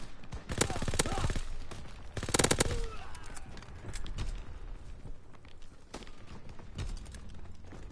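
Rapid bursts of gunfire from the World War II shooter Call of Duty WW2, with dense volleys near the start and later scattered shots over a busy battlefield, while people talk over the action.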